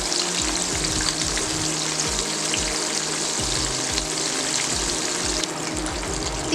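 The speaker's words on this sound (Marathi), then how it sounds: "फ्राय करताना साइडून असं थोडं थोडं तेल सोडायचं मध्ये" Chicken pieces fry in oil in a pan, a continuous close sizzle and hiss with irregular low spatters and crackles throughout, no voices.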